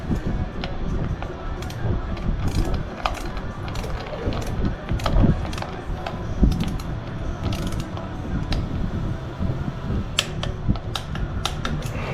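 A torque wrench set to 95 inch-pounds ratchets in short bursts while tightening bolts on a Harley Heritage primary cover, close metallic clicks repeating irregularly over faint workshop rumble.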